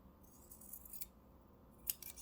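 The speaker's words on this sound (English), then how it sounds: "You're going to take your scissors. We're just going to cut off the ends just a little bit" Scissors snipping the ends of fabric while crafting a DIY lip balm holder, two or three quick close crisp cuts against a quiet background.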